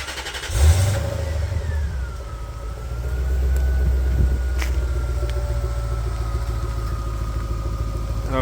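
A Lexus GS430 V8 with a homemade valved exhaust fires up with a sharp starter bite, then settles into a steady, loud, deep idle that rises slightly partway through and holds.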